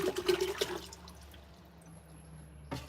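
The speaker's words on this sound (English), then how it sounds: "We should immediately start hearing water trickle down through this." Water trickles and drips through a Berkey gravity water filter right after it is filled, a soft, close liquid patter that fades toward the end, with no talking.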